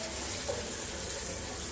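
A hotel shower runs with a steady, full hiss of water streaming close by, unbroken and alone with no voices.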